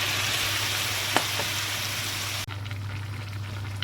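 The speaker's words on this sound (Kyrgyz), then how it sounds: "кайнак суу куябыз." Boiling water poured onto fried macaroni in a pan, a steady broadband sizzling hiss with a brief sharp splash partway through, the hiss dropping in intensity after a few seconds as the water settles.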